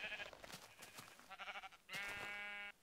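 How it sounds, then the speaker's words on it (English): Sheep bleating in the video game Minecraft, two or three nasal wavering bleats with the last one long and steady, close and clear over faint game background noise. "I'm gonna punch this sheep real quick."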